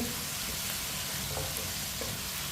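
Cut, washed potatoes fry in a pan for an aloo shimla mirch curry, giving a steady, even sizzle close by with no talking.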